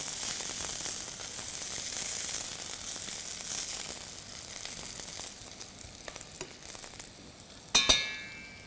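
Pieces of cheek meat with onions, garlic and thyme fry in a pan with a steady hiss of sizzling and light stirring. A sharp metallic clank near the end is followed by a ringing tail.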